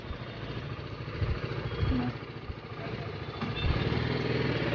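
A motorcycle engine idles nearby with a steady, uneven low rumble that swells slightly at times, while people talk over it.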